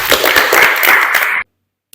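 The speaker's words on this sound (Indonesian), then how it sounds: "Tepuk tangan." A small group claps hands together during a group counseling session, a brisk burst of fairly loud, close claps lasting over a second before cutting off abruptly to silence.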